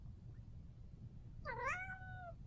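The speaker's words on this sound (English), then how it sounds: "Chloe, what's your problem? Why are you crying?" Over quiet room hum, a cat lets out one drawn-out, wavering meow, a plaintive cry lasting about a second, fairly close and alone.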